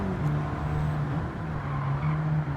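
An Abarth 500 on comfort tyres droning steadily around the Nürburgring in Gran Turismo 7, engine note held at a sustained even pitch, loud and continuous with slight variations in revs and no voices.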